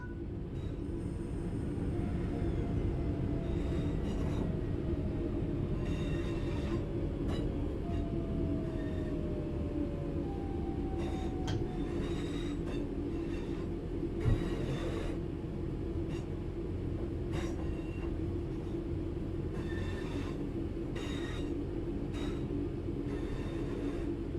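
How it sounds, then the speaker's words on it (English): A train in the video game Train Sim World 5 rumbles steadily along the track while braking to a stop, with faint metallic squeals sliding across the steady drone, no voices. "it's time to bring the train to a stop"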